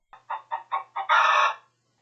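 A hen clucks close by, five short evenly spaced clucks followed by a longer drawn-out squawk, clear and loud against silence.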